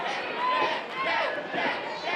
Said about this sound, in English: This crowd completely behind Dak